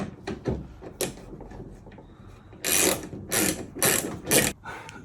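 Hex bolts are tightened with a ratchet wrench on an Ecto Containment Unit assembly, giving quick clicking ratchet runs, then four louder rasping bursts close to the mic.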